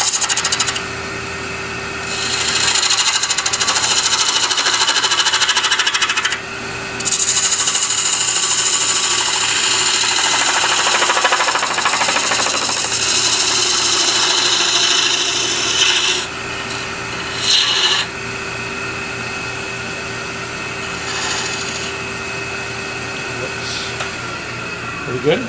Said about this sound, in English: So I'll put a tenon on this side.